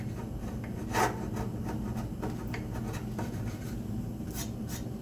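Scraping excess epoxy off a wooden spice rack by hand, a soft, repeated rasping rub with a few sharper strokes against a steady low background hum, close and moderately quiet.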